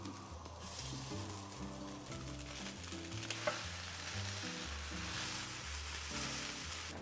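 Boiled noodles sizzle loudly in a hot pan while chicken chow mein is stir-fried, giving a continuous close frying hiss broken by scraping stir and toss sounds.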